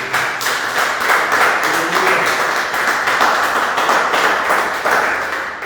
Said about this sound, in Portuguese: Vamos aplaudir o nosso Senhor Jesus Cristo.